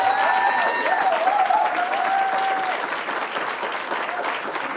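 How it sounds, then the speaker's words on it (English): Steady audience applause follows a musical performance, with crowd clapping and a few voices mixed in, strong at first and then tapering slightly. "Let's give them another round of applause."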